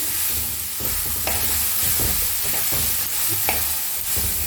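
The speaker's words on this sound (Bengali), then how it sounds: "বিউলির ডালটাকে ভালো করে ভাজবো আমি" Washed biuli (urad) dal frying in a wok, a steady sizzle broken by repeated scraping and stirring strokes at an uneven rhythm, loud and close with no talking.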